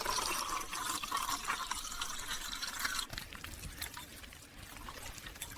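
Dry chocolate chip cookie mix of flour, baking soda and salt pours into a bowl of wet ingredients, a steady soft rushing hiss for several seconds that eases slightly toward the end, with no voices.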